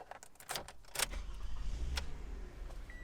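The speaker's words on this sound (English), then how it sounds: "Fired up the engine." A car engine turns over and settles into a low idle, preceded by a few clicks and a jingle of keys.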